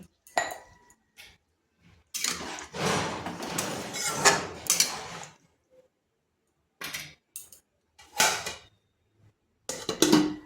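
A metal lid clatters onto a cooking pan in a string of loud, close clanks and scrapes with short quiet gaps, as in a kitchen while a ridge gourd and lentil dumpling dish simmers.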